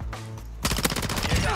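Gunfire in a first-person video game shooter during a headshot kill, starting after a short lull as a rapid run of sharp, loud shots in close succession.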